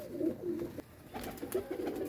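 Pigeons give low, throaty coos in two short bouts with a brief lull between them, close by and quiet, with no voices over them.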